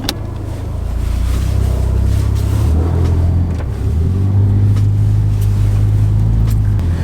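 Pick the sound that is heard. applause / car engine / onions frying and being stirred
car engine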